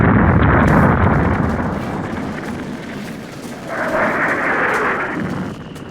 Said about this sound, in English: The city still under shell fire.